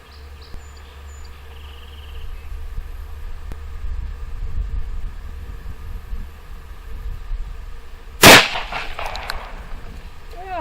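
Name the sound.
44 Magnum handgun shooting jacketed hollow point into water jugs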